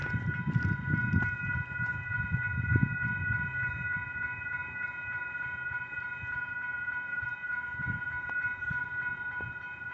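A BNSF southbound grain train led by locomotives 7225 and 6178 rolls past steadily, with a continuous low rumble of wheels and cars under a sustained tonal horn or whistle ringing throughout, loud and close.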